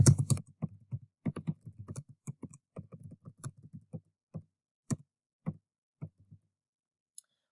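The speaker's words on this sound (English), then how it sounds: "To respond to this question, I want to position my cursor in the text box and begin typing" Fingers type on a computer keyboard, entering text into a form, with close, crisp key clicks in quick irregular bursts that thin out into a few isolated taps before stopping.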